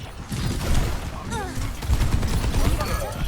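Rapid gunfire bursts in the Overwatch video game, mixed with game effects and under players talking throughout.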